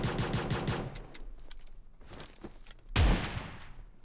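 Rapid bursts of gunfire from pistols and shotguns in PUBG Mobile, with a flurry of close shots at the start, scattered shots in the middle, and one loud blast near the end that rings out as it fades.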